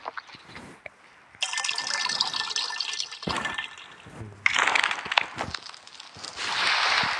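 Water being placed in a survival crafting game, heard as bursts of splashing, pouring liquid that start and stop in several separate surges, fairly close and moderately loud with no talk over it.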